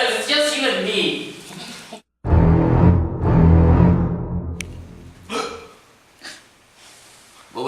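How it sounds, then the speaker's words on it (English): A hiccup comes amid excited, loud talk and exclamations: brief, sharp vocal jolts break up a busy stretch of overlapping voices. "I just hiccup."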